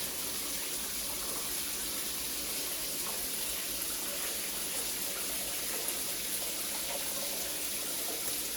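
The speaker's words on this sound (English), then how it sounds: "here's a look at the shower when the water is on." Water streams steadily from a shower onto cemented-over tile walls, a soft even hiss that stays constant throughout with no voices.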